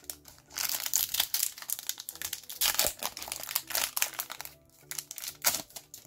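A Yu-Gi-Oh! booster pack's foil wrapper is torn open and crinkled up close, in irregular crackling bursts separated by short quiet gaps.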